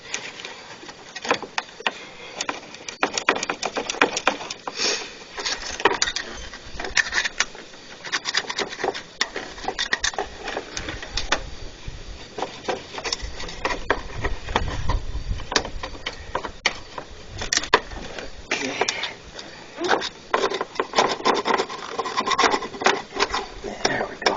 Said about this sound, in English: just get in there and scrape any of the old gasket off in that